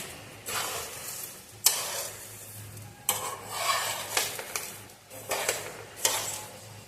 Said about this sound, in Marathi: सर्व मसाले आपले रोस्ट झालेले आहेत